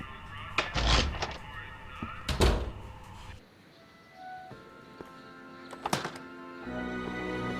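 A door in the Back to the Future video game, heard as a few heavy thuds and bangs spread across a quiet game scene with low ambient tones between them.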